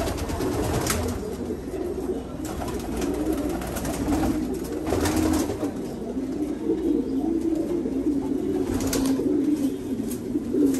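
Racing pigeons in a loft coo continuously, a low rolling murmur from several birds nearby with a few sharper bursts, no talking over them.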